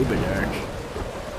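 Rain with distant thunder rumbling in the game Life is Strange, a steady wash of downpour throughout while a person talks over it.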